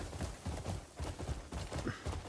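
Horse hooves clip-clopping in a video game ride, a quick uneven patter of soft thuds going on steadily at low volume with no talk over it.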